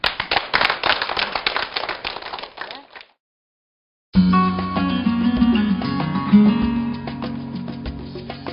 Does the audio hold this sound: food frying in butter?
no